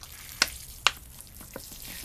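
Water poured onto the soil of a freshly repotted tamarind seedling gives a soft, close hiss and trickle with two sharp splashy bursts early on, then faint scattered drips.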